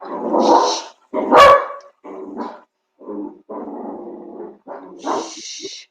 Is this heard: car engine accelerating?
no